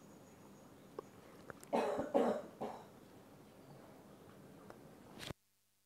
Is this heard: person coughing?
yes